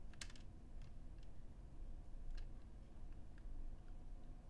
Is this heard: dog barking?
no